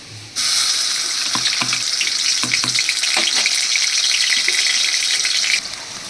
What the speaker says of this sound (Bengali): এবার দিয়ে দিচ্ছি আমি এর মধ্যে মশলাটা